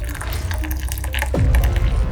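Coffee poured into a cup: a steady liquid splash and trickle whose pitch sweeps as the cup fills, loud and close, with no talking.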